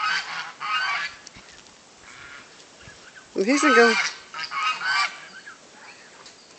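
Geese honk nearby in a loud burst midway, with fainter honks around it, while people talk quietly outdoors.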